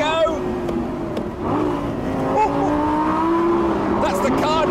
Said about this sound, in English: this flappy pedal gearbox does have an outrageous auto blip when you change down